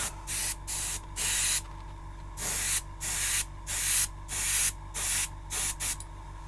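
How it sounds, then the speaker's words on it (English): Air compressor powering a spray of ice and snow effect, heard as about nine steady bursts of broadband hiss, each lasting a fraction of a second to a second, separated by short gaps over a low constant hum. "I hope that compressor's not too loud"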